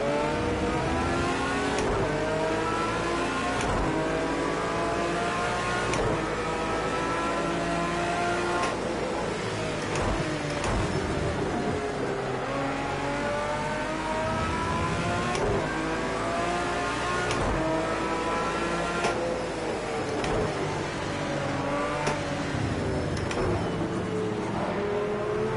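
Aston Martin Vantage GT3 race car engine lapping Imola in Project Cars 2, revving loud and steady through the whole stretch with repeated rising pitch sweeps and sharp upshifts every couple of seconds, alone without talk.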